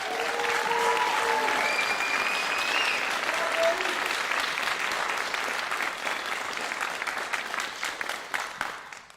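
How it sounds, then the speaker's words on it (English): A graduation audience claps for new high school graduates, a dense round of applause that holds steady, then tapers into scattered individual claps as it dies away, with a few voices faintly underneath. "Give them a round of applause"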